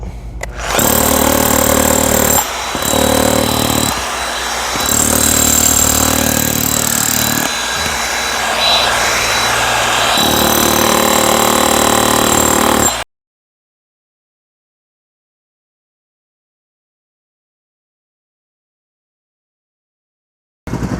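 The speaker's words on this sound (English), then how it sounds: "We finished working with the hammer drill" A hammer drill pounds in loud, rattling bursts breaking up pavers, with short pauses between, close by, then stops abruptly into silence.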